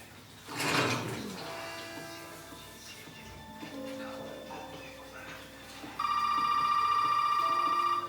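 In Resident Evil 7, a mechanical rustle is followed by tonal electronic tones and then a loud steady telephone ring that starts partway through and holds to the end.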